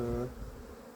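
Honeybees buzz at their hive in a brief, fairly faint drone that fades after a moment.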